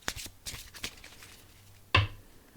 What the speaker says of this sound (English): So I'm going to shuffle up the cards